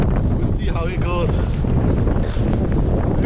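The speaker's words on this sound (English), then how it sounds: "It's a very windy day." Strong wind buffets the microphone on a misty hilltop hike, a loud, constant low roar throughout with a voice briefly heard under it.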